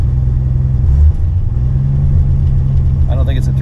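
The engine of a 1967 Plymouth Valiant runs with a loud, steady low rumble that swells briefly, while a voice talks over it near the end.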